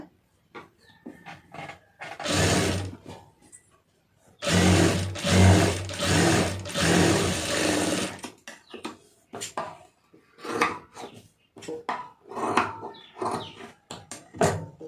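A sewing machine stitches a plain blouse in two loud sustained runs, with lighter intermittent stitching bursts and handling clatter between them.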